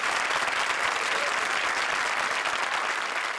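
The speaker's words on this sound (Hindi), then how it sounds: "आपकी एक्स्ट्रा इनिंग्स के लिए जोरदार तालियां" Loud, sustained applause from a studio audience at the Comedy Circus comedy show, dense even clapping at a steady level for several seconds with no talk over it.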